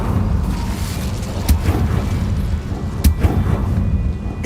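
Casting the Incendio fire spell in Hogwarts Legacy brings a loud, rumbling roar of flame with a couple of sharp whooshing bursts spaced a second or so apart over a continuous low rumble.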